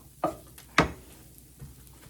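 Lemon rice tempering stirred in a pan on the stove: two sharp scraping strokes of a spoon against the pan, then a softer third, over a faint low sizzle.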